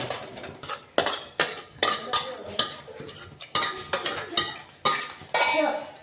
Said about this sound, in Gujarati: તો વઘાર મૂકી અને હલાવી દેવાનું છે